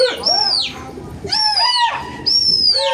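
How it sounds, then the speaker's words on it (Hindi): Three drawn-out, descending calls from Gola pigeons at a loft ring out close and loud, evenly spaced with short gaps between them. "वहाँ पे बैठा है शायद कबूतर"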